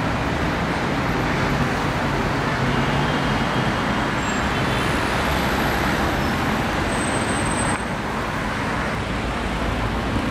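Steady road traffic rumble from inside a minibus moving through Istanbul streets, a continuous low engine and tyre drone with faint high whines, no talking.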